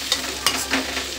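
Bitter gourd (karela) tossed and mixed in a pan for a sweet-and-sour dish, with a few soft stirring scrapes over a quiet sizzle.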